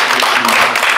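Brief burst of many people clapping at a seminar, dense and continuous, with a speaking voice faintly mixed in.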